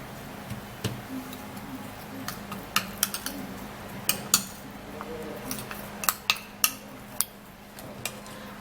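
A spoon stirs a baking soda hair removal mixture in a bowl, giving faint, irregular clinks and taps against the bowl's side, sparse at first and then clustering more densely, in a quiet room.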